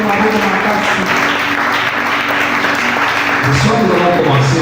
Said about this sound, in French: On acclame très fort le Seigneur.